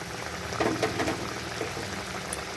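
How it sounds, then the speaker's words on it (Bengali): Pointed gourd (potol) curry gravy bubbles at a steady simmer in a pan, giving a continuous soft boiling hiss with small burbles throughout. "একটুখানি ফুটিয়ে নেব এইভাবে ঝোলটা ফুটে আসার পরেই"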